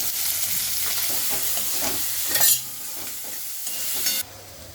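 Onion stir-fries in hot oil with curry leaves, green chili and asafoetida, a steady close sizzle broken by rhythmic scraping stirs, with a brief louder hiss near the middle and the frying dropping away abruptly at the end.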